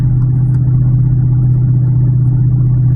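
Steady, loud car engine drone heard from inside the vehicle while driving, a constant low rumble with no speech and little variation.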